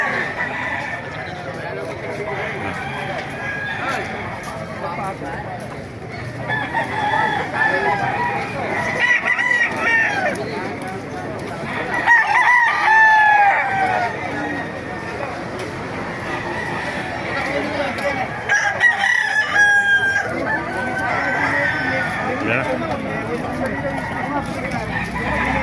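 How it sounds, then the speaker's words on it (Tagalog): Roosters at the Baliuag pet market crow repeatedly and cluck nearby, several loud calls rising over steady background murmur while someone talks throughout. "papakita kayo mga manok dito sa Baliwag"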